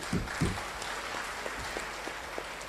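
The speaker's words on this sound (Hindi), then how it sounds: "उनके लिए एक जोरदार ताली होना चाहिए।" An audience claps at a motivational gathering, the applause coming as a steady, moderately distant patter with a couple of louder claps at the start.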